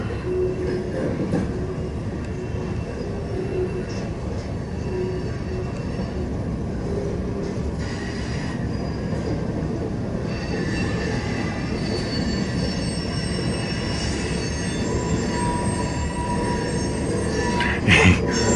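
A Norfolk Southern train rolls through the rail yard at Elkhart, Indiana, its wheels squealing in long, loud, continuous screeches over a steady rumble and clatter.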